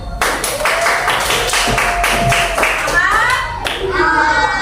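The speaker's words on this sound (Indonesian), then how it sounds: "Beri tepuk tangan semuanya." Students in a classroom clap their hands together for several seconds in a lively, fairly loud burst, with a whistle-like tone and children's voices chattering over it near the end.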